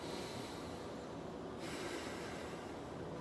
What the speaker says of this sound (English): we're going to do 3 deep nasal inhales and exhales here